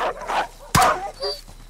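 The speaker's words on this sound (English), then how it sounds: "Dog." A dog barks once sharply and close in a Call of Duty: Modern Warfare (2019) mission, the bark landing amid clipped radio-style voices of soldiers talking before and after.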